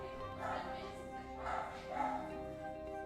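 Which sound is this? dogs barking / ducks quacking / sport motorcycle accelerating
dogs barking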